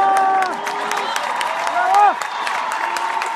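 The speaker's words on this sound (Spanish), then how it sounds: "Un aplauso muy fuerte" Steady applause with scattered cheers rises from the audience at Oriflame's Adrenaline 2017 corporate event, a dense patter of clapping running beneath someone speaking over a microphone.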